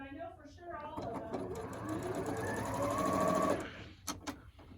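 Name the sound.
sewing machine stitching quilt block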